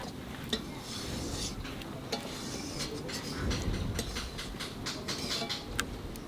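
Oily silver carp pieces fry hard in hot oil, giving a steady crackling sizzle with scattered sharp pops, fairly quiet and alone.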